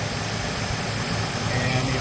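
A car engine idling steadily with the alternators switched off, a dense, even mechanical rumble close up, with a voice speaking over it.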